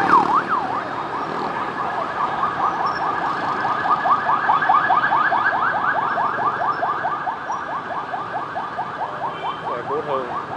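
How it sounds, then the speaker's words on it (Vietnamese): Ambulance on a rainy street in District 10, Saigon, wails with a loud, rapidly warbling siren that holds steady for about ten seconds over background traffic noise, close by and passing. "Xe cứu thương."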